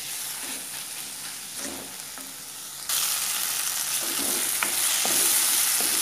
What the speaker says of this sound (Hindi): दो मिनट हमने ये स्टर फ्राई कर लिया है